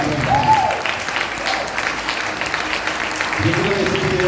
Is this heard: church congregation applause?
yes